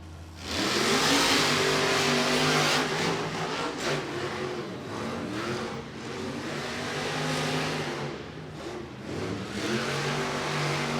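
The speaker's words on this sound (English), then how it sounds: "round 1 of Monster Energy Racing, Jim Kohler and Avenger against Cole Venard in the Black Pearl" Monster trucks in a Monster Energy racing round at Camping World Stadium in Orlando, Florida, roaring loudly with sustained revving and surging engine pitch, crowd noise blended in.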